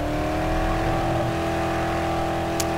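Car engine in the video game Dead Island, a loud steady droning hum held at constant revs while driving, with a brief sharp click near the end.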